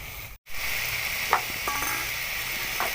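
Vegetables for macaroni sizzle and fry steadily in a pan, a continuous close hiss broken by a short gap near the start and a few soft stirring scrapes.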